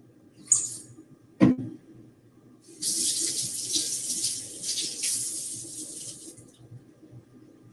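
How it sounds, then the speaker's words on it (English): A spoon smeared with barbecue sauce is rinsed under a running kitchen tap: a couple of sharp clinks, then a steady close rush of water for about four seconds before it shuts off, no voices. "I'm going to go and rinse my spoon because it's got barbecue sauce on it"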